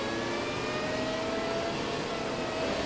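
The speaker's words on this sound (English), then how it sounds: "Clutch in, bringing the gear in and bringing the revs up." A McLaren Formula 1 car engine in the F1 2017 game, racing at Silverstone, is held at high revs on the starting grid, a loud, steady whirring drone with faint rising tonal whines and no voices.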